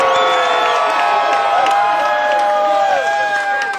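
A concert crowd in an indoor venue cheers and screams loudly and continuously, shrill whoops and yells layered over a dense roar with some clapping mixed in.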